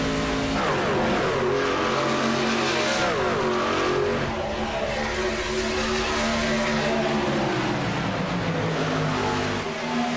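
A race car at speed circles the track while leading a lap in a VSpeed Contender Series race, its engine roaring loudly and steadily with rising and falling revs as it passes close by.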